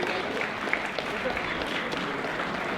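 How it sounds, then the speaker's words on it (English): Audience applause for Brother Hector at a school Christmas celebration around a bonfire, a steady, even wash of clapping that holds through the whole moment with some crowd noise mixed in. "So I think a greater round of applause to Brother Hector."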